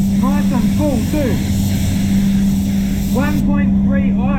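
A Ford Territory's engine and exhaust run with a steady, full drone close by while someone talks over it throughout.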